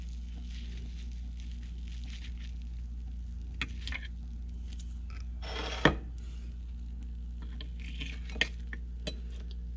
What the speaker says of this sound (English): We'll get a plate and put it on.